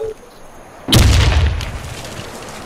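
A bomb dropping and exploding in a video game: a sudden loud, close deep boom that rumbles and fades over about a second and a half, with no talk over it.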